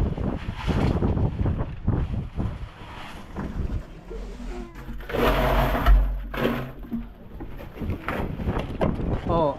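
Wind blows at sea, roaring and gusting across the microphone in uneven surges, with faint rumble beneath and occasional indistinct voices.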